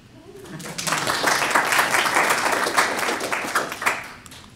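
An audience at a security conference talk claps, the sound swelling quickly from a quiet start into a full, busy patter that holds for a few seconds and then thins out toward the end.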